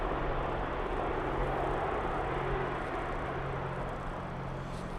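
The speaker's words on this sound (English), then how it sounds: "And the next arrival is Jet 2 737-800 from Funchal." A Jet2 Boeing 737-800 airliner arriving at Birmingham Airport from Funchal gives a steady, broad jet roar that holds evenly at a moderate distance throughout.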